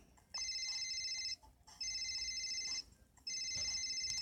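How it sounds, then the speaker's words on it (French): Telephone rings indoors in three evenly spaced electronic bursts, moderately loud and clear against a quiet background, with no talking. "quand le téléphone a sonné"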